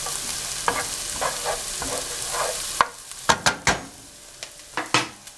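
Onions cooking in a pan sizzle steadily at first while a utensil scrapes and stirs with intermittent knocks. The sizzle then quiets, leaving sharper, separate stirring clatters close by.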